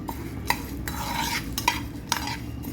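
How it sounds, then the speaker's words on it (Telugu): Cumin, cloves and peppercorns fry in a pan, a soft sizzle running underneath while a spoon stirs and clinks against the metal in several sharp, separate taps. "కొంచెం జీలకర్ర, లవంగాలు 2 మిరియాలు వేసి మంచిగా వేయించుకోవాలి."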